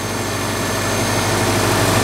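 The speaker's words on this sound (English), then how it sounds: "As you can hear, we have an excellent running 2006 Subaru Legacy." 2006 Subaru Legacy Outback with a 2.5 liter engine and automatic transmission, idling with a steady, even low hum heard close up, with no talking.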